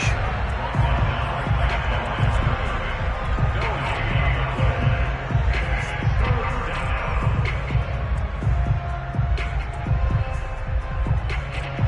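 A football stadium crowd during a wildcard game against Carolina rumbles in a steady, loud roar with throbbing low swells and scattered thumps, heard close and continuous.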